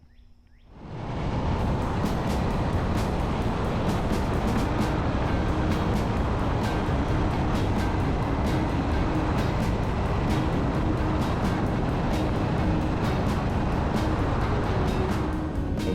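Steady, loud wind rush and engine drone from a 2023 Indian Scout Rogue cruiser motorcycle being ridden on the road, swelling up within the first second and holding constant throughout with no talk.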